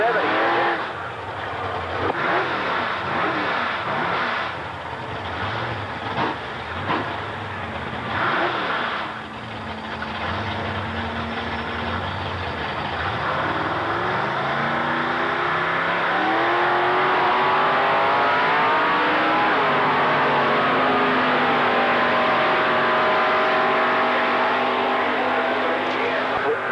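A 1956 Chevrolet drag race car with a 454 big block engine revs hard at a drag strip, loud and rising, with another engine alongside and an announcer talking over the roar.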